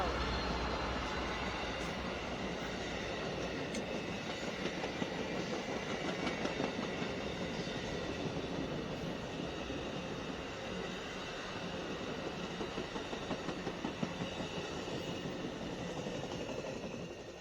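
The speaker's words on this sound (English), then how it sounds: "Hope everybody enjoyed the video of that Amtrak headed northbound through Ashland." An Amtrak passenger train rolls northbound through Ashland, Virginia, giving a loud, continuous rumble with rhythmic clickety-clack of wheels over rail joints that holds steady for the whole stretch, with faint talk in the background.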